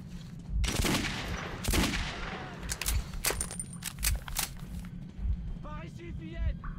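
Gunfire in the video game Metro 2033, a few sharp bursts of shots with clanging impacts over a constant low game rumble, followed by a voice talking near the end.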